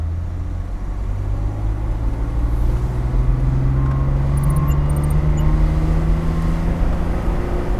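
A Mercedes W111 Cabriolet engine holds a steady, strong drone in its sweet-spot rev range during the Bosch Boxberg Klassik 2018 classic car rally. The pitch rises slightly and the sound stays loud and continuous throughout.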